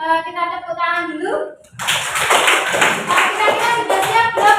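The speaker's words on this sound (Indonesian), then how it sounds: "Kita tepuk tangan dulu." Students clap their hands together in a classroom, a loud, close burst of clapping that follows a brief spoken prompt and continues for about three seconds.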